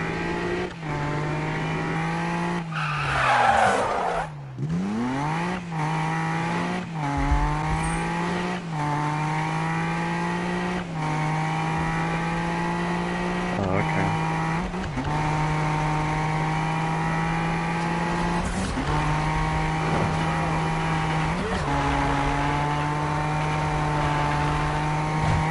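Subaru BRZ engine in a PS4 racing game, droning steadily with repeated short rev dips and gear shifts, plus one sharp swooping skid early on, played at moderate level without talk.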